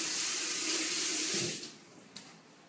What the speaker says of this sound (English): what else I'm going to do is wash my hands again.